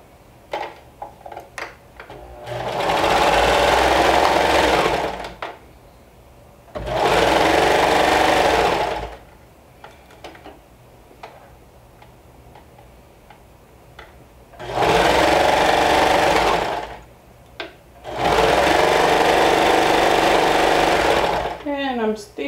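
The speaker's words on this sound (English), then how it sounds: "And I'm stitching around the arm side." A sewing machine stitches around the arm side of a Sinclair Violet garment in four loud, even bursts separated by short quiet pauses, close to the microphone.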